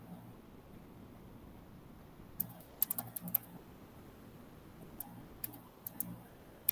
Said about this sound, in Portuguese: Meu teclado tá horrível.